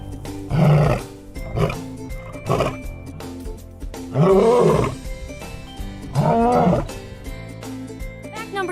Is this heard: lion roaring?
yes